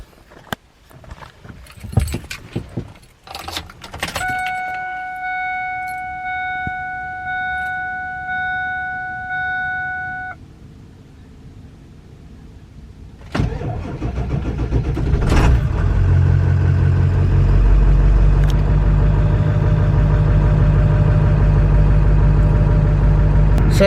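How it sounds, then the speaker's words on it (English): A 7.3 Powerstroke diesel with a suspected bad starter: keys jingle and a chime sounds, then the engine cranks over slowly for a couple of seconds before catching and settling into a loud, steady diesel idle up close. "it's cranking over slow, and I have a feeling that it's a starter."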